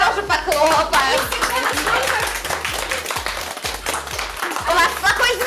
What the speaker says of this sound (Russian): давайте ей тоже похлопаем